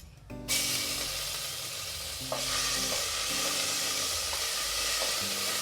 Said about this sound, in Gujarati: એમાં બે મિનિટ સાતડી લેવાનું છે ઘીમાં બધું